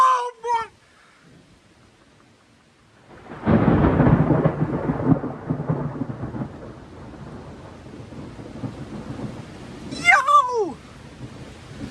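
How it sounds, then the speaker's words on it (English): A New Jersey thunderstorm during a lightning barrage: a sudden heavy roar of rain and rumbling thunder swells and holds, with a man's excited exclamations at the start and near the end. "This ain't stopping me from recording the rain."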